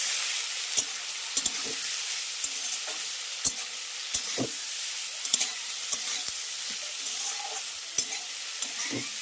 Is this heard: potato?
yes